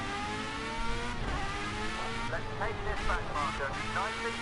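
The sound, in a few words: race car engine revving in video game Project CARS 2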